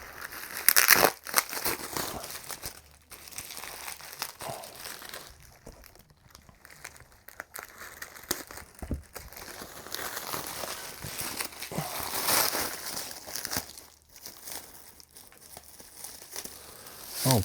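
Paper wrapping crumples and tears close by, in uneven bursts of crinkling, ripping and crackling that run for over fifteen seconds with short pauses between handfuls.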